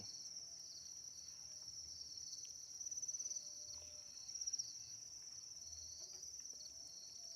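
Field crickets kept for egg-laying chirp in a steady high-pitched trill, faint and continuous, with a couple of slightly louder bursts in the middle.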